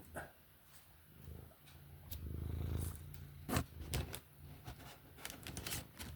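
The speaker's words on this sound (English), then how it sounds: "Can everybody hear him purring?" A pet cat purrs close by indoors, a soft low rumbling swelling in the middle, mixed with sharp clicks and rustling handling noises, with no talking.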